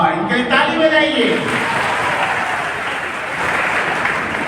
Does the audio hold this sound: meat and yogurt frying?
no